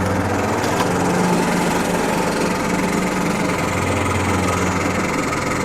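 A golf course lawn mower, run freshly after top dressing, drones steadily and loudly up close with a constant engine hum and vibration, alone with no talk.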